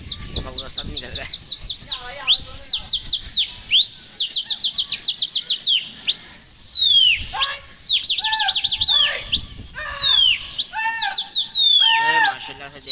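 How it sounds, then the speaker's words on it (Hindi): Pigeons fighting on a rooftop give off loud, bright, repeated chirps and whistling calls in quick overlapping bursts that continue throughout. The sound is close and busy, with no other sound standing out. "कबूतर छत पे आके कबूतर लड़ रहा है लेकिन कोई उड़ा नहीं रहा है"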